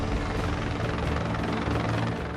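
A rescue helicopter hovers loud and close during a lifeguard hoist of a missing swimmer at Huntington Beach, a steady throbbing rotor drone filling the whole stretch with no voices.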